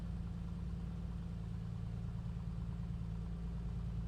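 A2A Comanche 250 aircraft engine in Microsoft Flight Simulator running steadily as the mixture is leaned, an even low throbbing drone at moderate volume, continuous with no voices.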